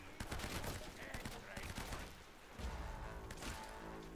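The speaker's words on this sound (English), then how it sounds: "When Navarro's not shooting, I will shoot." Gunfire in the video game Uncharted: Drake's Fortune, a dense fusillade of rapid repeated shots and crashes in continuous bursts over a busy game soundscape.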